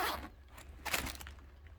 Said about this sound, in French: une grande fermeture éclair